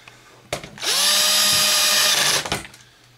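Cordless power drill with its clutch set low driving a screw during an Xbox 360 repair: a brief click, then a loud, close motor whine lasting about a second and a half, followed by a few clicks as it stops.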